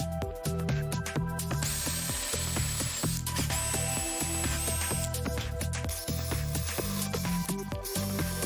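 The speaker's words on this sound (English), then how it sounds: "I'll make a hole in the plywood in order to get access to it without assembling the jigsaw." A hole is drilled into plywood on a jigsaw table, a steady whirring power drill with a ratcheting, mechanical edge running continuously and fairly loud throughout, with no voices.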